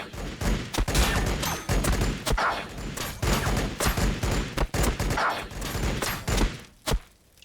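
A Warhammer 40,000 battle between Blood Angels and Necrons in a video game erupts in dense, rapid gunfire, loud overlapping shots and bursts that go on without pause, with a brief break near the end.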